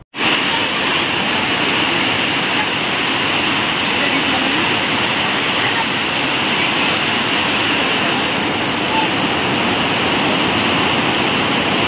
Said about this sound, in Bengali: দেখো কি জোরে জোরে ঝমঝম করে বৃষ্টি হচ্ছে